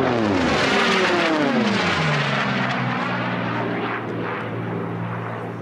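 Unlimited class racing planes roar past a pylon on the north end of an air race course, a loud approaching engine drone whose pitch sweeps downward as they pass and fade slightly.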